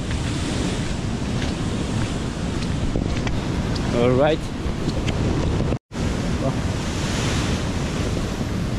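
Typhoon-driven waves surging against Dipolog Boulevard during a storm, a constant roar of surf and wind buffeting the microphone, with someone speaking briefly over it and a short dropout near the end.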